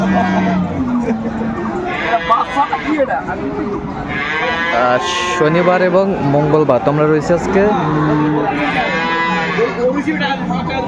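Dairy cows and calves low repeatedly at the Aftabganj cattle market in Dinajpur, several drawn-out moos from near and mid distance overlapping someone talking throughout.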